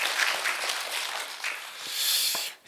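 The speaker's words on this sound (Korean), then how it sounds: "여러분 박수 환영해 주세요" Brief, fairly faint applause rises from a forum audience welcoming a poet to speak at a Korean intergenerational discussion event. The clapping swells near the end, then cuts off quickly.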